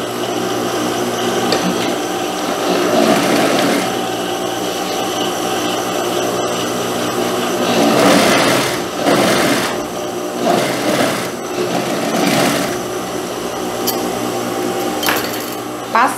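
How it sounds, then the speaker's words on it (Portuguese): A sewing machine stitches a dart on a dress in a steady whirring run with brief pauses and restarts, close up, while someone talks quietly over it. "E agora eu venho passando a costura."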